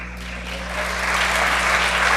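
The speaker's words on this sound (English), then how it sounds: "As you hear the Redford and Durfee fans giving Rochelle Lavoie a round of applause" Fans of Redford and Durfee at a girls' high school basketball game applaud an injured player as she is helped off, the clapping swelling gradually over a steady background hum.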